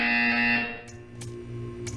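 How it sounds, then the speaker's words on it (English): A harsh electronic buzzer in the video game Portal 2 sounds with distorted tonal layers. It fades out after about half a second and is followed by a few faint, brief bursts. "You will hear a buzzer."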